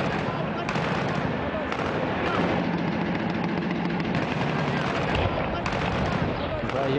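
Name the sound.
gunfire in a town during combat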